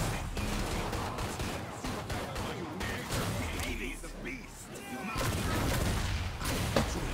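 Bursts of rapid gunfire crackle and thud amid busy noise in the video game Killing Floor, with a voice talking in Polish over the shooting.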